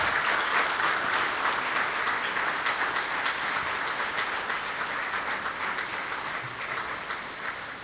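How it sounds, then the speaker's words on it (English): Sustained audience applause at a National Technical Honor Society induction ceremony, dense and even from start to finish, slowly fading toward the end. "Please give them a round of applause."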